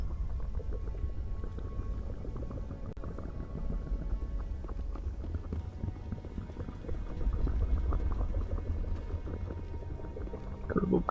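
Gurgling, bubbling liquid from the video game Mass Effect, a steady churning burble with low rumbling texture that continues for several seconds at moderate level.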